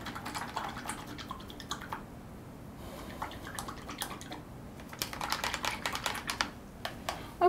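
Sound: rinsing a paintbrush in water

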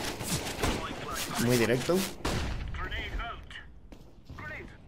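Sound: gunshots in the video game Counter-Strike

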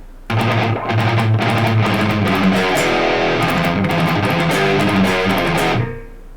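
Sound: electric guitar through noise gate

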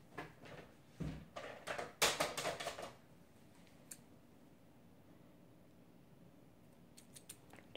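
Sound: scissors trimming fuzz

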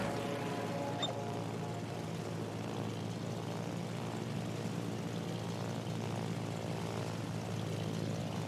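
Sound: fighter aircraft propeller engine taking off from carrier

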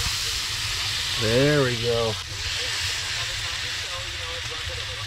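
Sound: steaks frying in a pan at a winter camp

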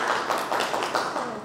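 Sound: audience applause at book launch

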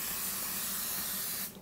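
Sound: butter-flavored cooking spray sprayed onto a waffle iron

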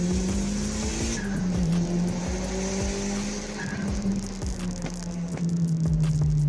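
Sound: street racing cars, tires squealing

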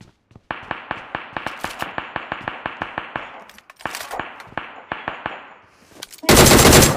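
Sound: gunfire in PUBG Mobile video game

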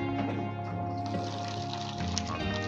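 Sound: pouring hot water over pork rinds and chicken

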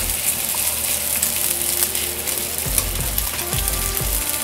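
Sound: stir-frying in a frying pan

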